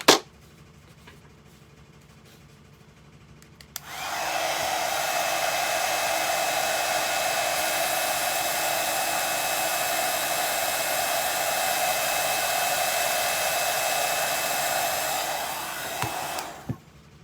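A handheld heat tool warming WoodUBend moulding on a terracotta pot switches on with a click and blows a loud, steady whooshing hum for about twelve seconds before clicking off.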